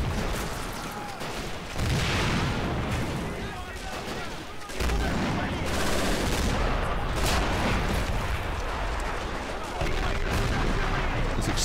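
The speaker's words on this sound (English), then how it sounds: "Explosions going off everywhere." Battle of Stalingrad in Men of War Assault Squad 2: dense game combat with booming explosions and rattling gunfire layered continuously, heavy blasts recurring every few seconds, loud and close throughout.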